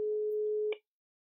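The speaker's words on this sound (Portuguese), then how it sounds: "Eu tô ligando pra Josi" Telephone ringback tone heard while placing a call; a single steady electronic tone holds for under a second, then ends abruptly into silence.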